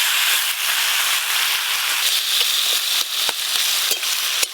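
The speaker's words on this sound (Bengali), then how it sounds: "এইভাবে নাড়তে নাড়তে পুরো জলটা শুকিয়ে নেব।" Hilsa fish heads and taro greens stirred in a hot pan give off a continuous close sizzle, with crisp spatula clicks and scrapes scattered through it and no voices.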